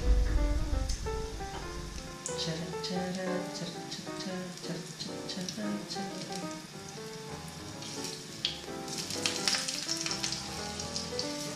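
Crushed garlic fries in olive oil in a saute pan, giving a steady, close crackling sizzle throughout with occasional louder pops and stirring sounds.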